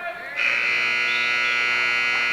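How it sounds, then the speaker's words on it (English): A loud, sustained electronic buzzer sounds at a high school wrestling match, starting abruptly and holding a steady, harsh tone to the end. "And we get a buzzer, not the end of the period."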